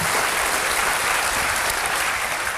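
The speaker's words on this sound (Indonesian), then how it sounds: "Berikan tepuk tangan kita untuk Tuhan kita" A church congregation claps together in a dense, sustained burst of applause, steady and full from start to finish with no voices standing out.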